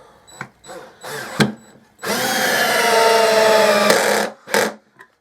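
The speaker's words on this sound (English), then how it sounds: "It's got enough power just to drive it all the way in, which I think is quite impressive for such a little tool that is meant to be a screwdriver" A small electric screwdriver drives an 80mm screw into treated softwood, giving a sustained whirring buzz of about two seconds under load, preceded and followed by short bursts and clicks, close up.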